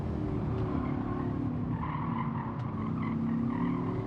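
Car in a racing video game, braking into a corner on the WTC 600 Tokyo South counterclockwise circuit, gives a steady, loud engine drone with a light tire skid running through the whole stretch.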